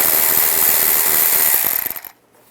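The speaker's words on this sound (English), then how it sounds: "You can loosen up the worm clamp right there, and then also right here." An 8mm socket on a ratchet loosens a worm clamp on a 2007-18 Jeep Wrangler's air snorkel, giving a loud, fast, steady clicking whir up close that stutters and stops after about two seconds.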